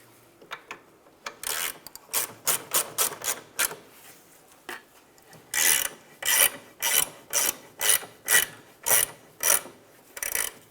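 Ratchet tightening the rear upper control arm bolt on a 2003-2011 Honda Element, an 18 mm nut: a burst of fast clicking bursts, then about ten evenly spaced, loud rasping ratchet strokes close to the microphone, no talk.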